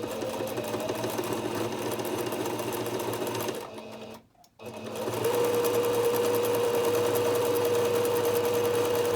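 A home sewing machine stitches a cocktail napkin with a regular needle, running steadily and loudly, briefly stopping around the middle before restarting with a sustained whirring hum.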